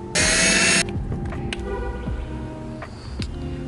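A 10mm bolt comes off a cargo van's front bumper, with a short, bright burst of power-tool whirring at the start. Quieter metallic clicks and ratcheting follow in the stillness.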